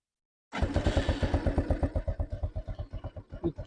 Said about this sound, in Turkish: Çalıştırdıktan sonra mutlaka motorun bir sesini dinleyin.